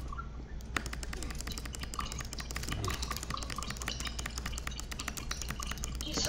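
Rapid computer keyboard typing and clicking during a Roblox BedWars game, continuous and fairly faint against a low steady hum.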